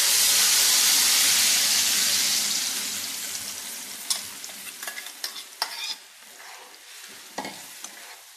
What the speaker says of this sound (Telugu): ఇప్పుడు మనం గ్రైండ్ చేసుకున్న టమాటో ప్యూరీ ఇందులో వేస్తున్నాం.